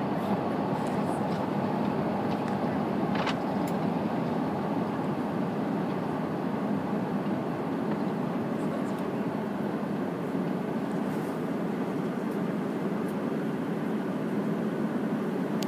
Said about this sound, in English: You have the sound of this tube hurtling through the air